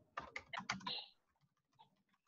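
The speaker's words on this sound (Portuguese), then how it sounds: "vou escrever aqui. Quer dizer, se escrever no teclado certo" Rapid keystrokes on a computer keyboard come in a quick close cluster, then fade to a few soft, scattered taps.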